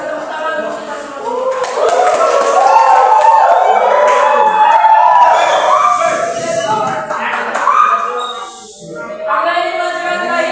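Classroom audience applause at the end of a lesson, a dense ongoing mix of clapping and cheering voices with children shouting, loud and crowded before thinning out near the end.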